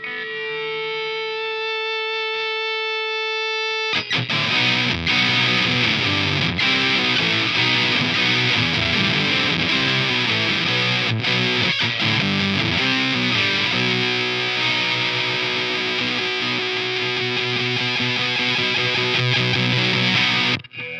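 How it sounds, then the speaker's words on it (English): Heavily overdriven electric guitar through a Walrus Audio 385 MkII overdrive pedal plays loud, sustained chords after a brief cleaner opening, thick and saturated throughout with no voices. "It's somewhere between a fuzz and a distortion and an overdrive."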